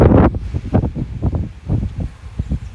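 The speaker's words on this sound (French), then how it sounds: "Oh là là, regardez les rafales." West-southwest wind gusts of around 40 to 50 km/h buffet the microphone in loud, irregular rumbling bursts several times over a few seconds.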